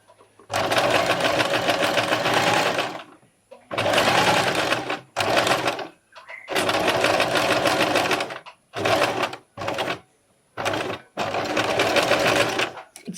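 A portable sewing machine stitches a foam-backed bra top or corset toile in several loud, steady runs. The bursts last from under a second to about three seconds and are separated by short silent pauses.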